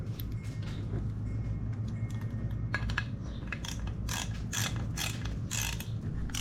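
A ratchet with a 5mm Allen bit tightening bolts while installing a GPR steering stabilizer on a Ninja ZX6R, quiet at first, then a run of rapid clicking ratchet strokes in short bursts, close by.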